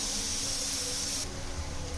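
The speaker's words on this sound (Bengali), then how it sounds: "এবারে একদিকটা ভাজা হয়ে গেছে, এবারে উল্টে দেবো এগুলো" Cabbage fritters fry in oil in a pan over medium flame, making a loud, steady hiss and sizzle that drops slightly halfway through. No one speaks.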